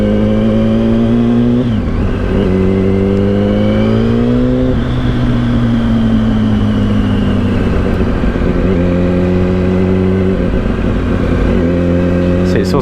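A 2007 Yamaha R1 sport bike engine revs loudly and close up, rising and falling in several swells over a rough idle. Some talk is faintly mixed in.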